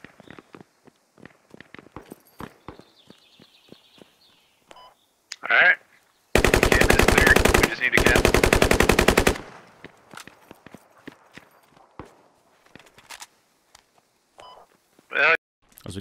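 A scoped weapon fires in the military shooter game Squad with a rapid, loud burst of shots, pauses briefly, then fires a second burst. Scattered footsteps and small clicks fill the quieter stretches.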